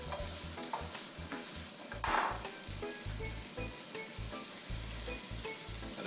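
Seasoned jerk chicken searing in a pan, a constant frying crackle with repeated low thumps and scrapes as the pieces are moved around, close and fairly quiet.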